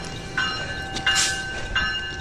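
A train on the tracks, brought to a stop just short of a man in its path, gives off steady rail noise with a sustained horn or brake tone and repeated squeals, loud and close throughout.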